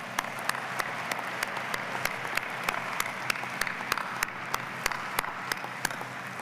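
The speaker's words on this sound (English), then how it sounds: "How about a round of applause?" A graduation ceremony audience applauds in a steady, even round of clapping, with a few sharp nearby claps standing out over a dense wash from the crowd.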